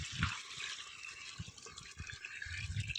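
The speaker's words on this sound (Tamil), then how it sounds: "தண்ணி ஊற்றுவோம்" Water being poured from a vessel into a pot while making chicken biryani, giving a steady splashing stream close by with a few drips and clinks and no talking.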